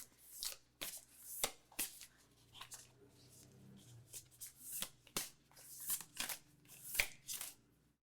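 A deck of tarot cards being shuffled up close, with repeated crisp riffling and slapping bursts in an irregular rhythm and soft hand handling between them.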